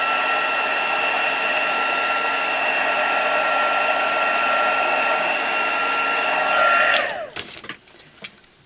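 A heat tool whirs steadily up close, melting embossing powder and glitter on a handmade Stampin' Up! Mother's Day card. The blowing hum holds for about seven seconds, then cuts off, leaving a few light handling clicks.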